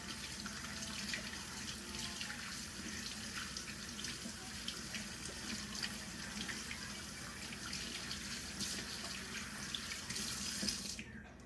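A faucet runs steadily into a sink while hands are lathered and washed, a constant close splashing hiss of water lasting the whole time with no talk over it.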